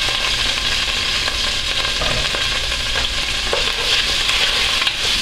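Chopped onion hits hot oil in a pot for a Peruvian carapulcra base, giving a steady, close hiss and crackle of frying that holds evenly throughout without speech.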